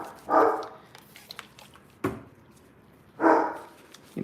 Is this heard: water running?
no